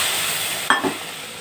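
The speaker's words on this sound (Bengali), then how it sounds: "সবটা আমি এবার নেড়ে নিলাম" A spoon stirs spiced potato and pea curry in a pan, giving one brief scraping stir over a steady low sizzle, close and moderately loud.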